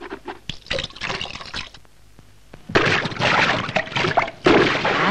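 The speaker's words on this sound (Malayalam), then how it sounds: "ഇങ്ങനെ വെള്ളം കലക്കിയാലോ കുട്ടികളെ," Water is splashed and churned by someone bathing in a muddy pond, with bursts of sloshing and slapping that grow louder and busier in the second half, close by and without talk.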